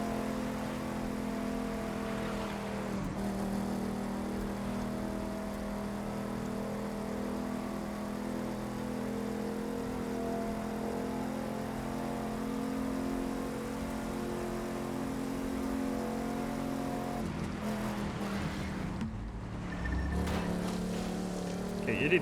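A GT500 car in the racing video game The Crew 2 drives with a steady, droning engine that holds for a long stretch, then shifts and swells briefly near the end.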